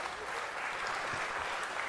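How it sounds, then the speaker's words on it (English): An Easter Sunday church audience applauding, a soft, continuous patter of many hands heard from a distance throughout. "Another round of applause."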